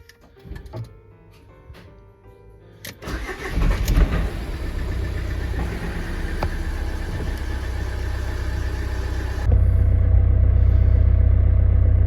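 A Renault Kangoo 1.5 dCi diesel with a newly replaced starter cranks briefly, then catches and settles into a steady, close idle that grows slightly louder and heavier near the end.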